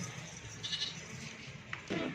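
Goats bleat on a goat farm where goats with kids are shown for sale, with a few brief, moderately faint calls over a soft background murmur.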